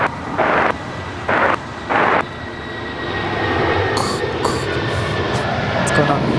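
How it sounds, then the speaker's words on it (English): A 20-year-old United Boeing 757-300 taking off from LAX bound for Chicago, its distant jet roar swelling steadily into a broad continuous rumble after brief radio-like bursts at the start. "This is a 20-year-old 757-300 with United departing to Chicago"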